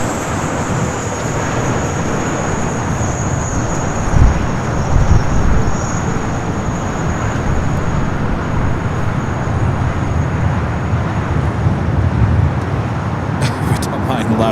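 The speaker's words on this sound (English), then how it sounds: "We don't mind loud props." A loud propeller aircraft at LAX airport, a heavy, steady engine roar with a sustained whine that persists for the whole stretch, mixed with broad airport background noise.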